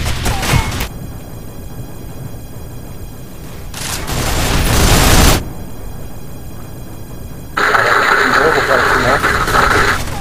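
Turrets in the video game Nuclear Dawn fire in rapid bursts amid engine rumble, the loud shooting swelling around 4–5 seconds and again from about 7.5 seconds, with speech over parts of it.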